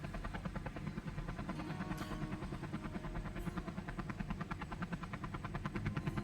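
A helicopter in the video game Space Engineers chops with fast, regular rotor pulses, loud and continuous throughout.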